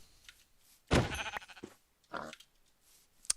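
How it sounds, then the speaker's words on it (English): Sheep bleating in Minecraft survival: one loud, close bleat followed by a second, shorter bleat after a pause, with faint game sounds in between and no talking. "let's kill some sheep"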